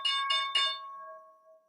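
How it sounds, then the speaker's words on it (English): A market opening bell rings three quick struck tones in succession, then a clear ringing hum lingers and slowly fades, loud and close with no talking. "That is the bell."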